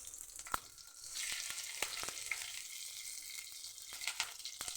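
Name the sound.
tempering sizzling in oil with curry leaves and green chillies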